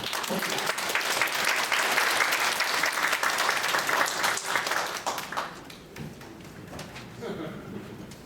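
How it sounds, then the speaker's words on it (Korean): Lecture audience breaking into loud, dense applause for a linguist, sustained for about five seconds before tapering into scattered claps and faint room murmur. "여러분 저 김영식 선생한테 한번 박수 좀"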